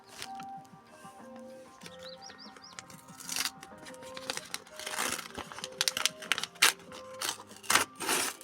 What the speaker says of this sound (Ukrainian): Відкривай пакетик.